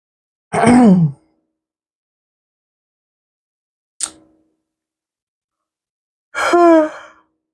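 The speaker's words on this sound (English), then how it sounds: "3 yawns. Wow. Someone is very, very tired." Two long breathy yawns, one at the start and one near the end, with a short faint sound between them and silence around them.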